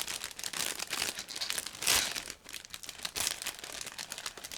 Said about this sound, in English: while I'm opening the next plastic bag